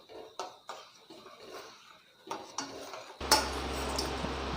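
Milk and sugar stirred in a pot for kulfi, with light metallic spoon clinks and taps against the pot, followed by a steadier rushing sound near the end, no talk.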